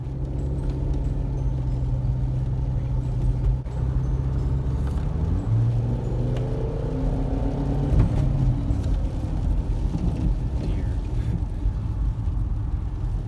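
Audi A4 with a turbocharged engine on a road test drive, a steady loud engine drone and road rumble throughout with rising engine tones mid-way as it accelerates, no talking.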